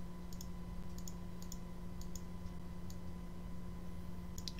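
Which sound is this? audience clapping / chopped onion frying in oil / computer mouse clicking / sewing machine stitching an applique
computer mouse clicking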